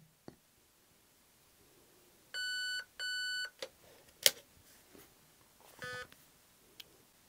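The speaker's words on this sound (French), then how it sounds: "on a un bip toutes les 2 secondes" A few short electronic beeps from the ETU (torpedo unit) of the Ama Tsu Maru in sniper mode, two in quick succession and another a few seconds later, clear and close against a quiet background.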